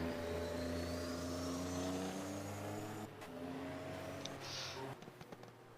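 Sports racing cars from the 1983 DRM race at Hockenheim, engines droning loud and steady before a sharp change, with whining passes and cars moving near and away; no talk over it.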